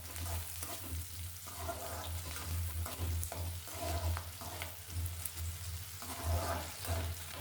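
Onions and whole spices such as cloves frying in a pan for a spicy chicken fry: a steady, close sizzle runs throughout, with occasional stirring scrapes and no talking.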